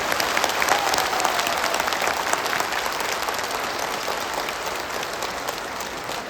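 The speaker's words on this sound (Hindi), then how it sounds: "एक बार सबसे बड़ी ताली अपनी मां शक्तियों के लिए।" A crowd at an old-pension protest rally in Patna breaks into loud, sustained applause, with many hands clapping together in a thick wash that gradually tapers off.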